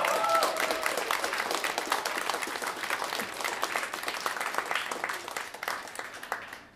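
Sustained audience applause for a live guitarist at a concert, dense steady clapping throughout that slowly fades toward the end, with a brief voice near the start.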